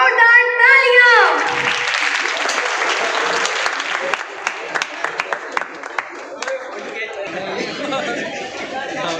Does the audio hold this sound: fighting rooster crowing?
no